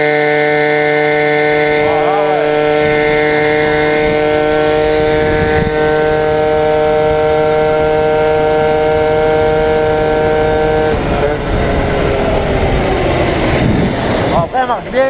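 A Peugeot 103 moped engine revs and holds a high, steady whine for several seconds, then drops and picks up again, loud and close, with voices talking briefly over it.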